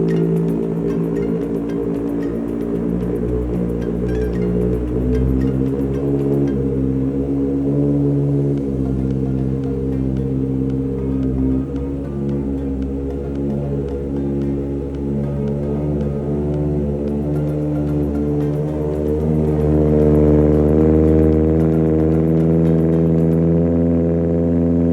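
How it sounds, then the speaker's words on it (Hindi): Kawasaki ZX6R sport motorcycle fitted with an Austin Racing full-system exhaust, its engine running steadily and loud nearby with a low, layered drone that swells slightly toward the end, no voices. "आज मैं आपको सुनाने जा रहा हूँ ZX6R की आवाज़"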